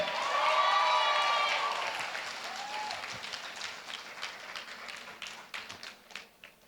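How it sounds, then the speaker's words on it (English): Audience applause at a peace leadership conference plenary in the Philippines, a loud burst of clapping from a large crowd that gradually fades into scattered claps. "With your applause, can you show me?"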